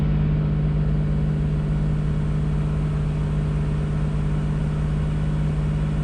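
A 4th-gen car engine idles steadily at an elevated 2,000 RPM, an even hum with a constant low drone and no revving, continuous throughout.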